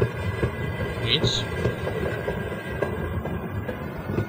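A train rumbles and clatters steadily in the game Half-Life, with a brief high squeal near the start, while players talk over it.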